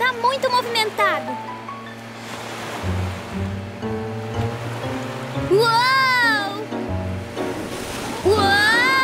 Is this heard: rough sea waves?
yes